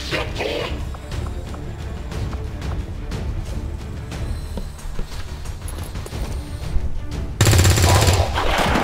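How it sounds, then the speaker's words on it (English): Gunfire from the strategy video game XCOM 2 rattles in rapid bursts and single shots over game background sound and a talking voice, ending in a louder blast. "Took out the commander with a single shot."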